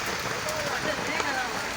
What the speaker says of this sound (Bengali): ডিগলুপুরে প্রচণ্ড পরিমাণ বৃষ্টি হচ্ছে এই যে দেখতে পাচ্ছেন প্রচণ্ড বৃষ্টি হচ্ছে